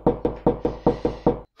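Seven sharp, evenly spaced knocks on a door, close and loud, rapping at a quick steady rhythm before stopping, followed by a faint small tap.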